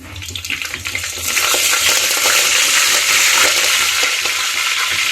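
Cumin seeds crackle and sizzle sharply in hot oil, a dense steady hiss that swells after a second and stays loud, with faint stirring underneath.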